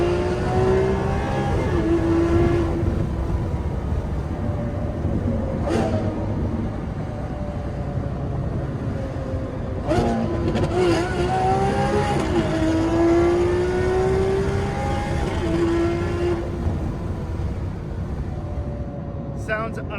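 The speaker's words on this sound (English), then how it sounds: "Only Aeroflow and Gintani have that high-pitched scream that I really love in an Aventador exhaust." A Lamborghini Aventador SV with a Gintani exhaust and tune revs and accelerates through repeated rising high-pitched engine screams with sharp gear shifts, loud and close from inside the car over about twenty seconds, with some talking mixed in.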